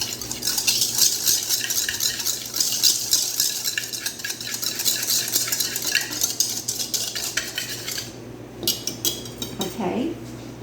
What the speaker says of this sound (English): I'm just going to give this a good whisk together